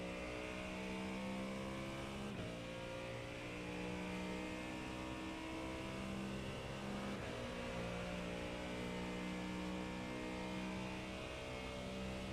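Race car engine in an IMSA sports car racing video game at Daytona, a steady loud droning whine with shifting harmonics that dips briefly at two points, sounding continuous and close throughout.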